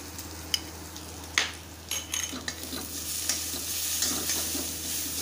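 Crushed ginger, garlic and chili paste frying with browned onion in a pan for Kolhapuri misal, a steady close sizzle with several sharp stirring scrapes and clinks, no talking.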